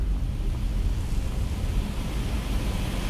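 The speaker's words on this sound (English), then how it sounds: "It's getting windy." Steady gusting wind blows through the Ustengrav Depths in Skyrim Special Edition, a constant loud broadband roar with no pauses and no voices.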